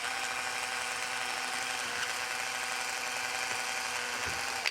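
A power drill runs with a steady, high-pitched motorized whir, continuous and loud throughout, while cleaning out an electric fence energizer, ending with a brief knock at the very end.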